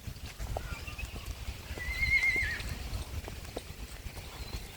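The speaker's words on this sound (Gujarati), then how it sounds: "આ ચડી ગયા વારી ઘોડીમાં લ્યો." Aged mare walking with a rider on a farmhouse visit, soft rhythmic hoof clip-clops on the ground, fairly faint and close, with a brief whinny-like tone in the middle and no talk.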